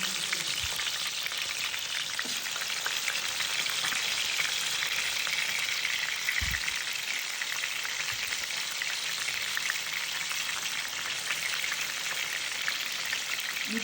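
Dried fish fritters wrapped in taro leaves frying in hot oil give a loud, continuous bubbling sizzle, close and steady throughout, with a few low knocks from the pan.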